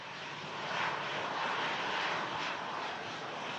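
An airliner taxis at Manchester Airport in stormy weather, and its engines make a steady, fairly distant jet rumble and whine that swells slightly midway and holds without talk.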